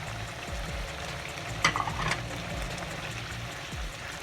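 Chicken white karahi with yogurt and coconut sizzling in a pan, a steady soft crackle with a few brief spatters and stirring scrapes near the middle.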